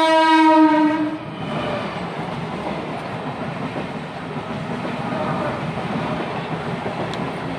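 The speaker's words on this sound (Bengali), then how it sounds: "আবার না ডাউনের দিকে ট্রেন যায়" A train on the down line sounds its horn loudly for about a second at the start, then its passing rumble and clatter roll on steadily at moderate distance.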